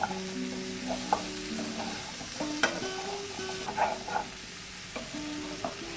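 Pumpkin stem vegetables with turmeric powder get stirred in a hot pan, a spoon scraping in irregular strokes over a low steady sizzle, with no talking.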